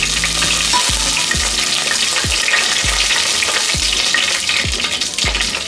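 Whole spices, bay leaf, cardamom, cloves and cinnamon, frying in hot oil in a pan, a constant close sizzle with regular soft knocks of stirring about every half second.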